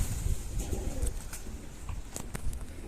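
Soft pigeon coos repeat at a low pitch in a coop, with scattered chirps and rustling around them, moderately close in a fairly quiet space.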